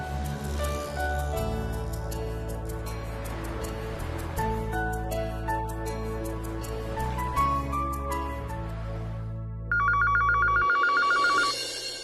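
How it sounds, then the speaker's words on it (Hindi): A telephone rings out on a call to a company: a repeated electronic ringtone pattern under a music bed, ending with a brighter trilling ring near the close. "कंपनी में फोन करता हूँ।"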